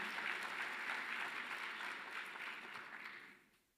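Audience applause at an education sector gathering, a steady wash of clapping from a crowd that holds for a few seconds before fading out at the end.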